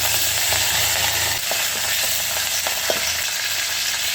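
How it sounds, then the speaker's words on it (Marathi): Curry leaves hit hot oil on a wood-fired clay stove while a brinjal curry is being made, giving a loud, steady sizzle and crackle with a few soft pops and no talking. "तेल टाकलं, आता हे ना कढीपत्ता टाकून देते"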